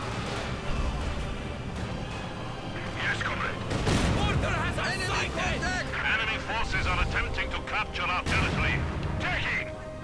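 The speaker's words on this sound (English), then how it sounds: "German mortar firing into the mess" German mortar rounds firing and bursting in a World War II strategy game battle, a string of sharp booms and impacts over steady battle din and overlapping gunfire, with a voice talking throughout.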